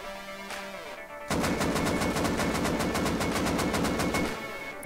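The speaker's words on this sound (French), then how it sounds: "voir ce qui se passe si l'on tire debout sans bouger notre souris" Automatic rifle fire in the survival video game Rust, fired while standing, a rapid steady burst of evenly spaced shots lasting several seconds, loud and alone after a brief mechanical click.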